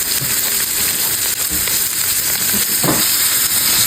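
A steak sizzles loudly in a pan with butter, crushed skin-on garlic and rosemary, giving a dense continuous hiss and crackle up close, with a few soft thumps and spatters, no talking.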